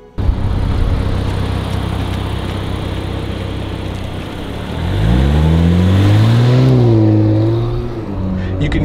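A 2023 Nissan Z sports car drives with a steady engine drone inside the cabin, then revs up in a rising, throaty climb before settling back, with artificial engine sound piped in.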